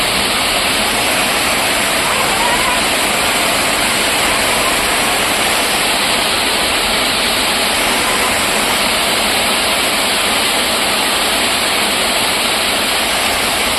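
Floodwater rushing steadily around a submerged house at night, a loud, constant broadband wash that neither pauses nor changes across the whole stretch, with no voices over it.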